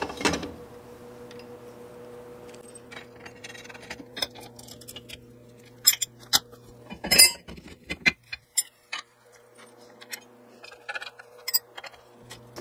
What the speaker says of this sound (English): all I'm going to do is bolt these in place so I can start mocking everything up.